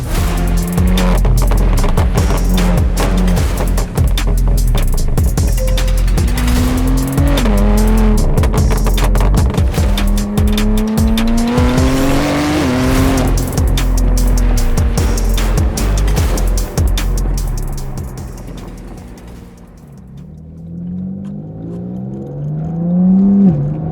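A loud BMW G81 M3 Touring engine revs and accelerates through gear changes with a throaty Akrapovič sport exhaust, pops and tire noise, fading briefly near the end.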